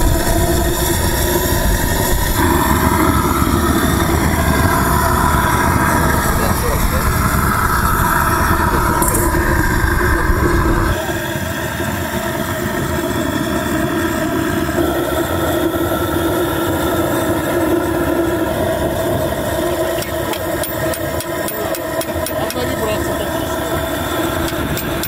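A homemade steam-powered motorcycle engine runs during test rides. It gives a loud, continuous churning drone that holds steady, then shifts to a slightly lighter tone partway through, with no talk over it.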